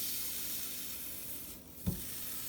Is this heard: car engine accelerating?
no